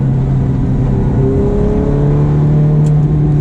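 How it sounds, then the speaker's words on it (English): A Ferrari F430 driving in sport mode: a loud, continuous engine hum heard from inside the cabin, its pitch rising slowly as the car gathers speed. "I'm driving a Ferrari F430."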